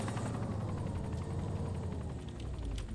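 Steady, loud rotor thrum from a helicopter in the game DayZ fills the whole stretch, a constant chopping drone with faint extra clicks near the end.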